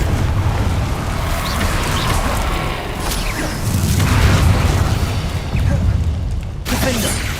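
Spell explosions in the video game Hogwarts Legacy go off as repeated booming blasts with crackling debris, layered over continuous game effects and ambience.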